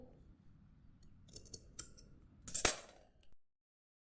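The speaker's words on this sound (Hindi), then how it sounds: "थ्रेड को इसी तरह से छांट के काट देंगे कैंची से।" Scissors snip through macrame thread while a basket is being made, with a few light clicks followed by one sharp, close cut, then quiet.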